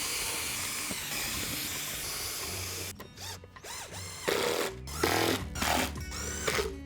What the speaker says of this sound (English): I want to drill some holes in this